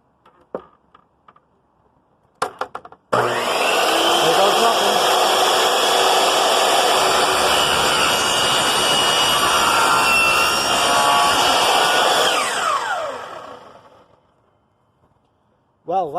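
A few knocks, then a power saw whines loudly and steadily through a cut in wood for about ten seconds before spinning down.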